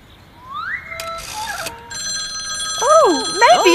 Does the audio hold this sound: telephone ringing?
yes